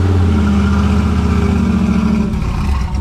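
A Ford F100 pickup with a three-on-the-tree column shift revs loudly and steadily up close as it pulls away, its engine note rising slightly, with no talking.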